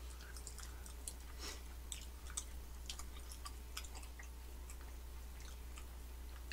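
Soft, damp bread being chewed close to the microphone, a quiet run of irregular wet squishes and small clicks over a steady low hum, with no talking.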